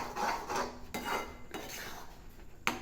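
Spoon scraping and stirring thick pineapple kesari in a pan, a few distinct clinks and scrapes at an uneven rhythm, close and clear.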